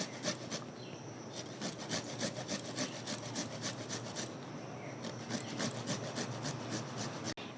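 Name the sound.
grating ginger into pakora batter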